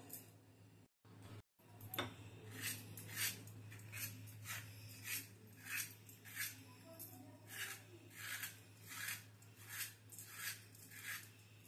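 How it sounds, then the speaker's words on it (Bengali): Small pointed gourds (potol) being cleaned in a bowl make a regular series of soft scraping, rubbing strokes, close and fairly quiet over a steady low hum. "এইভাবে আমি সব পটলগুলো পরিষ্কার করে নেব"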